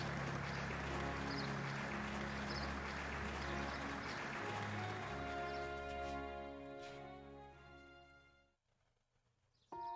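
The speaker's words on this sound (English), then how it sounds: "We got that loop playing with the claps." A looping recording of applause from the game Trails of Cold Steel: dense, steady clapping under sustained musical tones, thinning out near the end before a brief quiet gap and a sudden return.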